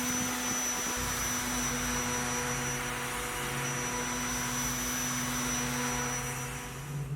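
A power sander hums and whirs steadily across a wooden butcher block countertop, a loud continuous drone with a faint tonal whine and no talk.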